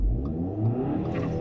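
Car launching hard down a quarter-mile run on ethanol-blended fuel, engine revving loudly and continuously up through manually shifted gears, close and strong with no talking.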